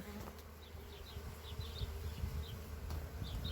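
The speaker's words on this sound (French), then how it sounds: "Beaucoup d'abeilles, vous voyez des butineuses avec du pollen." Honeybees buzz steadily around an opened hive with foragers carrying pollen, a soft close hum with brief louder passes near the ear, no talk.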